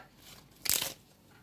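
Fried chicken being torn into pieces by hand gives one brief, soft crisp rip close up in an otherwise quiet moment.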